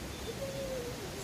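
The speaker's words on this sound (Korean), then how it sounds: "새소리와 계곡물 소리" A single thin, high bird call drifts over a steady soft hiss of valley stream water in Jirisan's Hansin Valley, distant and faint, with no voices.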